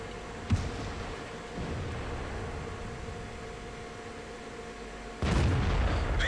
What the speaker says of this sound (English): Mesa takes a blind shot and actually does hit it